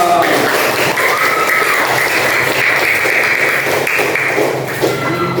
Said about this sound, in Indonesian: Iya, pintar, tepuk tangan dong.